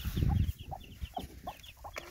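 Chickens, hens and young roosters, cluck in short separate bursts close by, with a brief louder flurry of low scuffling at the start and no talk.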